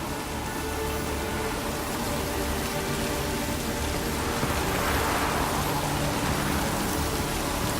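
Rain in The Witcher 3: Wild Hunt, a dense, continuous hiss of falling water that swells slightly toward the end, with no voices.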